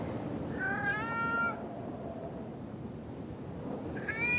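A cat perched on a rocking gunpowder barrel in Foolish Mortals gives a drawn-out meow, then a shorter second meow a few seconds later, close and clear over a steady low rumble.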